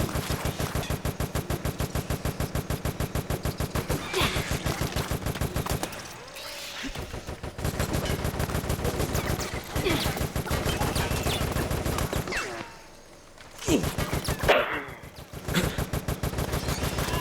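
Rapid automatic gunfire from Resident Evil: Operation Raccoon City, played on easy, as enemies and parasites soak up round after round. Loud, continuous bursts with two short pauses, no voices over it.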